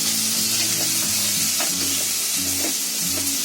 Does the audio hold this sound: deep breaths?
no